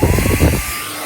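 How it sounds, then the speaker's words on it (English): A hair dryer blows on a hot setting, a brief close buzzing whir that cuts off after about half a second, leaving a faint hum. "So I'm going to hairdryer it on a nice hot heat."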